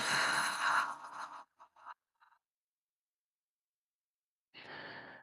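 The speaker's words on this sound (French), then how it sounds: "Profonde expire par la bouche." A deep exhale through the mouth at the end of a hatha yoga session: a long, breathy, close release that trails into near silence, then a second soft breath follows.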